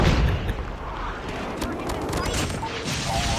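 PPSh-41 submachine gun firing in Call of Duty Mobile, with repeated rapid shots merging into a dense, loud wash of battle noise that continues steadily throughout.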